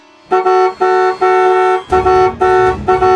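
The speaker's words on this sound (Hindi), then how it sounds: "हॉर्न बजाना" A car horn honks repeatedly in loud, close blasts, several short and long toots in an uneven rhythm.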